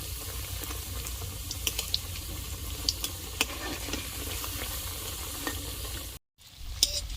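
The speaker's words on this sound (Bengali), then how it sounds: "চৌকোগুলো যেহেতু পাতলা তাই সময় কম লাগবে ভাজতে" Thin semolina and potato snack pieces deep-fry in hot oil with a constant, close bubbling sizzle, scattered crackles, and a brief cut to silence near the end.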